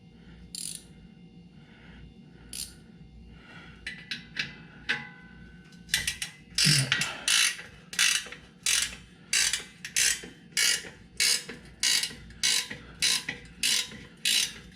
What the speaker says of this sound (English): That's the bolt I got to get off of there. I believe it's 9/16.